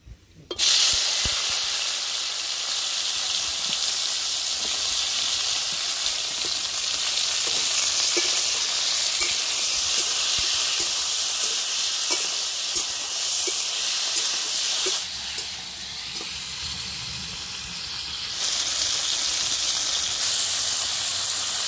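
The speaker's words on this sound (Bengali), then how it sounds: "তেল গরম হয়ে গেছে, এবার ভেন্ডিগুলোকে হালকা করে ভেজে নেব।" Okra fries in hot mustard oil in a wok, a loud continuous sizzle and hiss held close for a long stretch, with a brief quieter dip midway and no talking.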